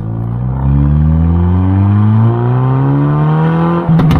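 Hyundai i30 Fastback N with a six-speed manual, its engine revving steadily upward in a loud cabin drone, ending in a quick burst of sharp exhaust pops and crackles near the end.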